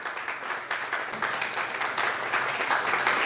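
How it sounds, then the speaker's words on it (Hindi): Loud, dense applause from a church congregation at a Resurrection Day prize distribution, steady and sustained with no pauses, filling the hall throughout. "जोरदार तालियां, जोरदार।"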